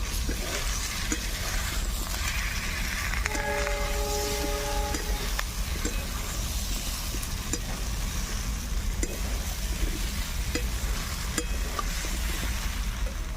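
Fried jackfruit and potato being stirred in a hot pan, a steady low sizzle with scraping and stirring strokes running continuously throughout, fairly quiet and close, with no talk.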